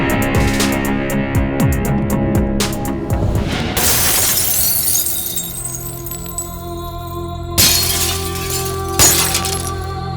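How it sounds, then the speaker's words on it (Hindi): Glass shatters loudly in a Bollywood film scene, a sharp crash followed by scattered clinking shards, with dramatic music and further smashing bursts later on. "कांच टूटने की आवाज सुन के"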